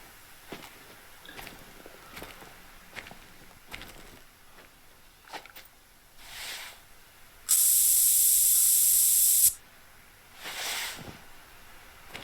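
A scent spray bursts out in the hunting game TheHunter: Call of the Wild, one loud sustained two-second hiss set against quiet rustling footsteps and softer breathy puffs.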